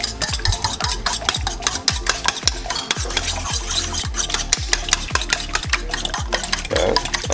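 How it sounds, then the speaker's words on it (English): Three eggs whisked briskly in a bowl, a fast, even run of close metallic clinks and taps, loud and alone. "For here, I have some eggs inside here, about 3 of them. I'm gonna go ahead and mix that up."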